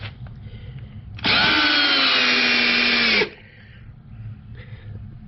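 An 18-volt Ridgid drill drives and countersinks a screw into wood, a loud, even two-second whir that starts and stops sharply against quiet room noise.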